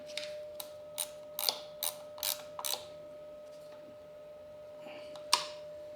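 Small, faint metallic clicks in short, spaced bursts as screws are fastened with a 3mm Allen key while a Takegawa Super Multi DN meter is installed on a Honda Dax 125, with a steady quiet hum underneath.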